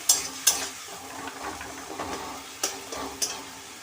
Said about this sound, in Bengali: দিয়ে মশলাটাকে ভালো করে কষিয়ে নেব।